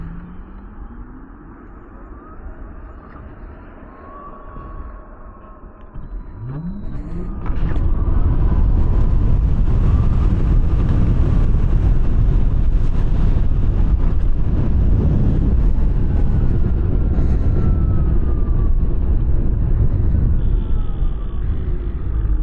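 Verge TS Pro electric motorbike launching hard in beast mode: a quiet start gives way to a rising electric motor whine and a loud, steady roar of wind, with no voices.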